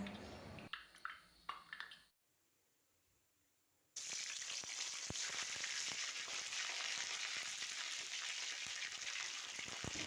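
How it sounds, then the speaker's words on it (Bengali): Cauliflower florets frying in hot mustard oil in a pan, cooking a cauliflower and spinach curry: a brief quiet gap, then a loud, steady, close sizzle that fills the rest of the clip with scattered pops and crackles. "তারপর ফুলকপিগুলো আমি প্রথমে ভেজে নেব"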